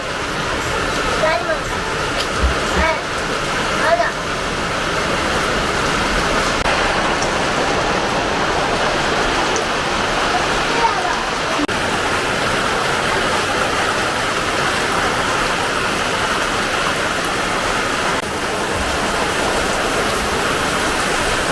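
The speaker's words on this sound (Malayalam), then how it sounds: "ഭയങ്കര മഴയാണല്ലോ" Heavy monsoon rain in Mundakayam, Kerala, pouring in a loud, continuous roaring hiss that holds throughout, with people talking beneath it.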